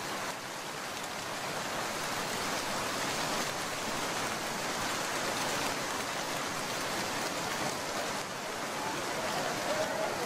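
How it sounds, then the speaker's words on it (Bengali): Steady rain pours down in a cartoon scene outside a fish market, a continuous soft hiss of drops on surfaces, even and unbroken, fairly quiet with no voices. "বৃষ্টি দেখে মনে হয় কেউ বাজার পরিদর্শনে আসেনি"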